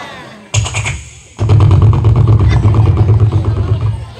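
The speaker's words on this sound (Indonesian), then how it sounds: "aya suara motor kos kitu nya" Motorcycle engine starting up and running steadily with a low idling rumble and clatter, close by, as a man heads off to work as a motorbike taxi driver; people talk over it.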